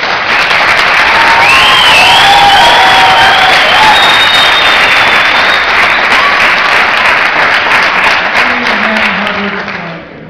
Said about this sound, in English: give one more round of applause to Eva and the kids